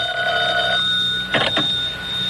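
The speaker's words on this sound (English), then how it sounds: "the phone rang in my hotel room" A telephone in a hotel room rings in a 1945 radio drama, a steady electric bell tone followed by a short rattling double burst of the ringer, loud and close.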